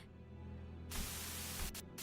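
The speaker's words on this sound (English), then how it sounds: "A sudden buzz of white noise breaks through the truck's silence." A sudden loud burst of radio white-noise static in the Limbus Company video game, hissing in abruptly after a quiet hum and briefly cutting out and back near the end.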